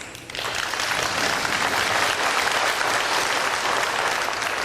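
An audience at a school board meeting on a mascot dispute bursts into loud, sustained applause, dense clapping starting abruptly and holding steady throughout, close and full.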